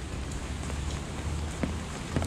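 Rain falls steadily outdoors at Yehliu Geopark in Taiwan, a dense even hiss with a few scattered louder drops.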